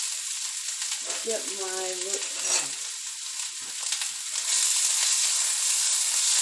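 Chopped onions hitting warm olive oil in a pan for potato soup, a steady close sizzle and hiss that swells louder toward the end, with a brief spoken phrase early on.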